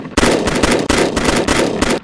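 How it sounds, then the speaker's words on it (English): Gunshots fire in a rapid, continuous string of loud, close bursts with no pauses between them. "Hey, and the gunshots work?"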